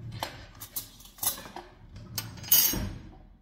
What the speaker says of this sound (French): je prends un bol